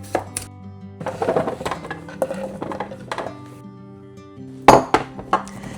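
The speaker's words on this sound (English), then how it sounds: "I'm chopping them like diagonally so that they get maximum surface area." A knife taps repeatedly against a cutting board, chopping vegetables diagonally in uneven bursts, with light clinks and clatter between strokes, close by.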